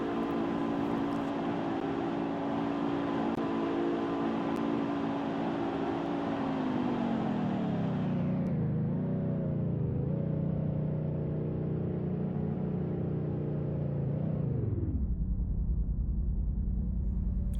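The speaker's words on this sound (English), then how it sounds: "This car's engine has a really nice sound to it for the price, especially being no pass required." Car engine in the Roblox game Greenville, a no-pass car, revving steadily with a sustained drone that drops in pitch twice as it shifts down, heard close and alone.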